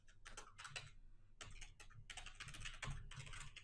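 Keys on a computer keyboard clatter in quick, irregular bursts as a password is typed, very quiet and close with short pauses between runs of keystrokes and no voice.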